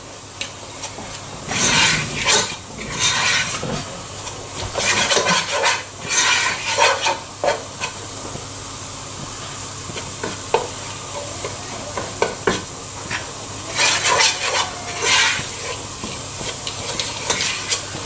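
Butter and flour cooking together in a pan, heard up close as a soft, continuous sizzle broken by repeated bursts of stirring and scraping.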